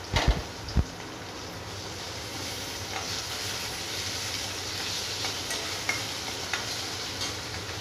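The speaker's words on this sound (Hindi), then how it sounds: "पहले मैं आलू को अच्छे से भून के ले लूँगी।" Chopped raw potatoes fry in a pan for tinda curry, a steady soft sizzle with a few clicks and stirring knocks near the start, no talking.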